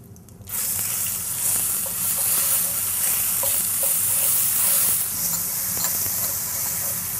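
Garlic and ginger paste hits hot oil with cumin seeds and sizzles loudly and continuously, a dense close frying hiss that starts abruptly and holds steady with faint stirring clicks, no talking.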